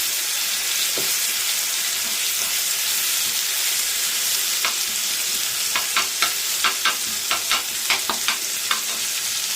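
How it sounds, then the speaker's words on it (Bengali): Onions, garlic and green chilli lightly frying in a pan with a steady sizzle, a utensil stirring through them in a run of sharp scraping clicks toward the end. "পেঁয়াজগুলো একটু নেড়ে নেবো"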